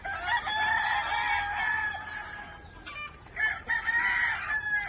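Chickens kept on a vacant plot cluck close by while a rooster crows loudly twice, the second crow longer, over a low background of farmyard noise.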